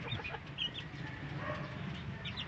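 Chicks and chickens of mixed leg-band colours, about two weeks old, cluck and peep softly in a coop, with brief chirps scattered over a steady low rustle and no talking.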